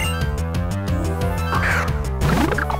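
A bird's cawing cry from the Pokémon Black game, layered over steady looping game music with chiptune-style tones, a short bright call rising near the end.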